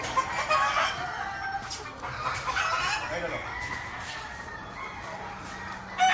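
Gamefowl hens clucking and a rooster crowing in a breeding pen, several birds close by calling over each other in a steady, busy chorus.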